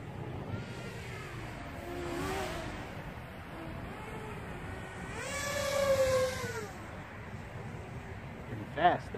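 A Walkera Rodeo 150 drone flying over an open field, its motors whining in rising, sliding tones as throttle climbs to full, fairly distant and steady beneath a voice talking throughout.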